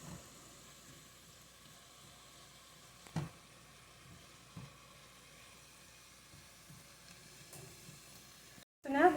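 Garlic cloves and carrots sizzling softly in a soup pot as they are stirred, a faint steady hiss with a few light clinks of the spoon against the pot.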